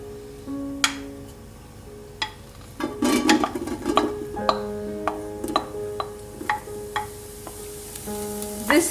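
Chopped bacon fries in a pan on a gas stove with a steady close sizzle, punctuated by repeated sharp clicks and scrapes of a utensil stirring against the pan. No talking.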